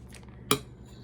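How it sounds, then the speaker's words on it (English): A single sharp clink of a metal knife against a plate or board while cutting a stick of butter into smaller pieces, heard once mid-clip in a quiet kitchen. "So I'm gonna cut this up into some smaller pieces so it melts a little bit faster."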